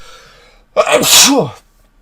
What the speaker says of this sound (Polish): Przepraszam za kichanie